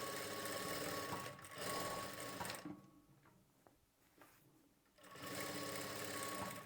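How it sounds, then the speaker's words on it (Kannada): A sewing machine runs in steady bursts while stitching the sleeve onto a plain blouse, loud and close; it whirs for about two and a half seconds, drops to quieter intermittent ticks, then starts up again. "ಇದಕ್ಕೆ ಇನ್ನೊಂದು ಹೊಲಿಗೆನ ಹಾಕ್ಕೊಳ್ಬೇಕು"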